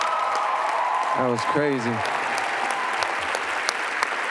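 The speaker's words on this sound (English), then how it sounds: "we gotta give her a round of applause" Loud, steady audience applause fills the room throughout, with a person speaking briefly over the clapping partway through.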